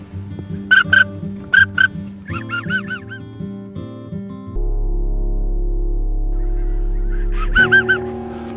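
Geese honk overhead during a waterfowl hunt on icy water, a series of loud, nasal honks in short bursts, with a steady low hum under part of it.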